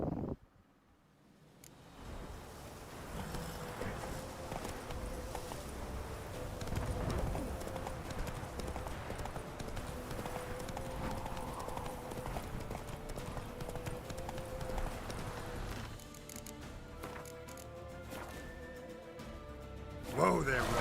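Roach the horse in The Witcher 3 trots with a steady clip-clop of hooves for about twenty seconds, joined by wind and faint bird calls, with voices mixed in.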